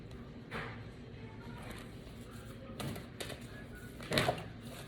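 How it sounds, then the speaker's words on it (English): Cards shuffled by hand in several short riffling bursts, close and moderately loud, separated by quiet gaps. "I'm just shuffling the cards."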